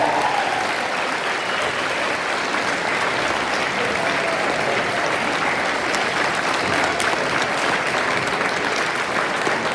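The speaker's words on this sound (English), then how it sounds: "Everybody give Dick a round of applause and wish him well." An audience at a retirement send-off breaks into sustained applause, a dense, even roar of clapping hands that holds steady for the whole stretch with only faint crowd murmur beneath.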